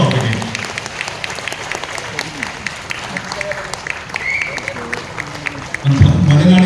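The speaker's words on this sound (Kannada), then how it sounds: "ನಮ್ಮೆಲ್ಲರ ಜೋರು ಚಪ್ಪಾಳೆಯ ಅಭಿನಂದನೆ ಸಲ್ಲಿಸೋಣ" Audience applause during a felicitation at the 19th Geethotsava music festival evening programme in Mysuru: a steady patter of many hands clapping from a seated crowd, with a louder burst of clapping near the end.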